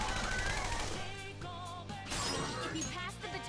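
Gunfire in the video game Persona 5 Royal: bursts of sharp shots and crackling impacts play over loud game music, with the shots clustering mid-clip.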